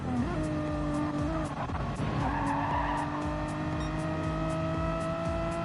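Renault Megane Trophy race cars in a racing video game: a loud, steady engine drone holds throughout while tires squeal and skid through a bend, with no voices.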